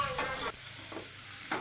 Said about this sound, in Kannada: ಈರುಳ್ಳಿ ಫ್ರೈ ಮಾಡ್ತಿದ್ಯಾ?